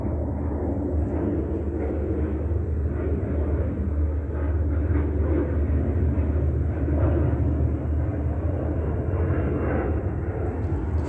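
A deep, steady engine roar rumbles continuously, like a helicopter overhead, with no pauses.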